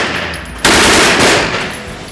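A Hostage gun fires a sustained, loud burst of rapid shots that starts suddenly and rolls on without pause to the end, close and dominant with no talking.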